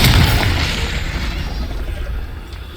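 A Confringo fire spell detonates in Hogwarts Legacy, a loud booming blast at the start that rolls off into a long, rumbling decay with no talk over it.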